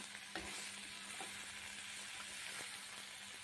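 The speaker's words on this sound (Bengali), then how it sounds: "এবার বেশ খানিকক্ষণ ধরে ধীরে ধীরে এটাকে ভাজতে হবে, অনেকক্ষণ ধরে ভাজতে হবে" Pointed gourd sizzles quietly as it fries slowly in a pan over a low flame, with occasional scraping from stirring; a steady, soft hiss and no talking.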